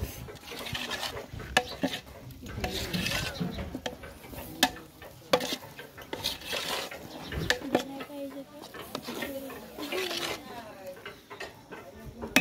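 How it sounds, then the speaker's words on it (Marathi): Chili powder is stir-fried in a masala, with a spatula scraping and clattering against the pan over a soft sizzle. People talk through the whole stretch. "चांगलं परतून घेऊया मसाल्यात"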